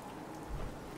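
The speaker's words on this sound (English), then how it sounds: "I hate the fact that it's fucking raining" Brief stretch of rain falling in the video game Fallout 4, a soft continuous patter with a faint low thump midway.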